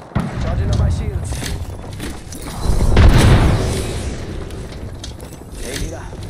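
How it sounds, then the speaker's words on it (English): A grenade goes off in an online shooter game, a deep booming blast that swells about three seconds in and rolls away under a busy background of game noise and rumble. "Throw my grenade."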